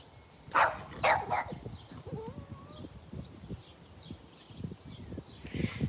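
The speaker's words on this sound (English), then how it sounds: "And that is my little dog." A small dog barks in a few sharp bursts near the start, then quieter yaps and some faint birdsong follow in an outdoor setting.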